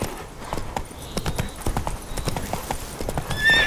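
Roach, the horse in The Witcher 3, gallops along in a rapid, even clip-clop of hoofbeats, close and distinct, with a brief whinny-like cue near the end and no talking.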